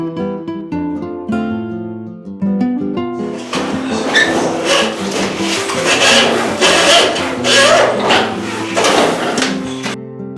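Sandpaper is rubbed by hand over a damp, mould-damaged interior wall, making loud close rasping strokes in a steady back-and-forth rhythm after a short stretch of music. No one speaks.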